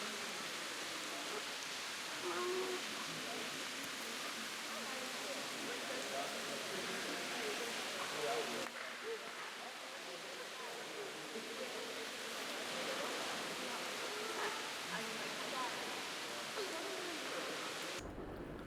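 A small waterfall at Emma Gorge, El Questro, in the Kimberley, giving a continuous broad rushing hiss of falling water, steady and fairly close, with no pauses.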